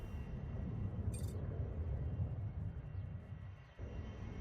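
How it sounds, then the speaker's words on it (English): An Airbus A350 taking off in the SimAirport airport-management game gives a steady, low engine rumble with a faint high whine, a sustained moderate drone with no talk and a brief click partway through. "A350 has taken off without issue."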